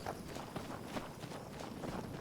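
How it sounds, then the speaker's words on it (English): Footsteps of the companion Serana walking on a path in the game Skyrim, a soft, regular patter of steps, faint and close behind, with no talking. "I can hear her footsteps behind me,"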